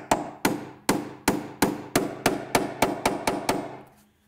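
Hammer strikes on a nail set driving a nail into soft cedar, about a dozen sharp, evenly spaced taps at a steady rhythm, close and loud, each ringing briefly before the next.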